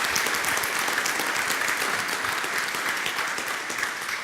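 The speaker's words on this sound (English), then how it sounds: "Let's give Emma a round of applause." A lecture audience gives a talk's speaker a steady, dense round of applause, sustained and fairly loud throughout with no voices over it.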